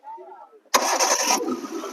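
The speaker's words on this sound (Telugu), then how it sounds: "ఇంజిన్ వరకే ఒకసారి సెల్ఫ్ కొట్టండి" A 2010 Hyundai Santro car engine cranks and catches abruptly on the first try, then runs loudly at a rough idle; brief talk is heard just before it starts.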